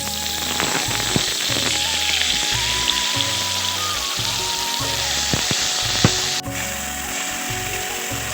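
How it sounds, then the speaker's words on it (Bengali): Spice paste for a crab curry fries in hot oil with a loud, steady crackling sizzle, close up, while a spatula clicks and scrapes against the pan now and then. "মশলাটাকে এবার ভালো করে কষিয়ে নিচ্ছি"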